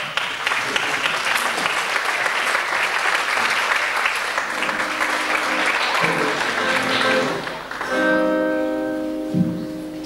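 An audience at a religious song festival in Czerwionce-Leszczyny gives the band a big round of applause. The clapping is sustained and loud, then fades near the end as instruments start to sound out tones.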